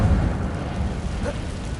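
A fire spell is cast in a video game, a short dense rumbling whoosh of flame that starts loud and fades slightly over under two seconds.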